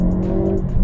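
A 2021 facelift Hyundai i30 N Performance accelerating hard in N Grin Shift maximum-attack mode, its engine note loud and close with a steady low drone and a faint tire hiss.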